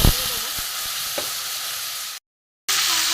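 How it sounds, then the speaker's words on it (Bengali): Ground spices sizzle and fry in a hot pan for garam masala egg bora curry, with soft scraping stirs over a steady hiss, then a brief silent gap before the loud frying resumes. "সব মশলা দিয়ে দিয়েছি, একটু ভালো করে কষিয়ে নেব।"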